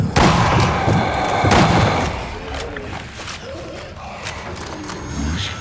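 Gunfire and heavy booming impacts in the Zombie Army Trilogy shooter game, loud and dense at the start with sharp repeated shots, then thinning into scattered bursts and rumbling over a steady battle din.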